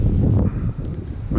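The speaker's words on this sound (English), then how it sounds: "At the moment the wind's that strong." Strong wind buffets the microphone on a Welsh lakeside during summer pike fishing, a loud, low, continuous rumble that swells and dips across the whole moment, with no voices over it.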